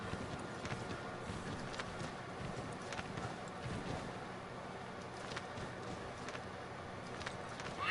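Horse hooves clip-clop in the Assassin's Creed 3 Remastered video game, a steady rhythmic run of faint hoofbeats over low background game sound.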